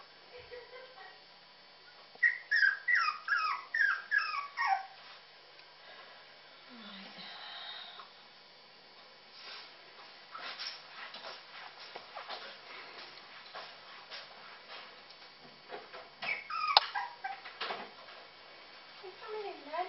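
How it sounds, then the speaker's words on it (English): Young puppies whimper and yip in rising, wavering squeals. They come in several bursts across the stretch, close by and fairly faint, with someone talking at times. "Your puppies are calling for you."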